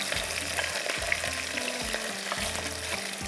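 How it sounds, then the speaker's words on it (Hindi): Onions frying in hot oil in a pan for a bhindi dish, a steady sizzle with repeated stirring scrapes in a regular rhythm, close and fairly loud with no talking. "थोड़ा सा प्याज को हल्का सा फ्राई करना है"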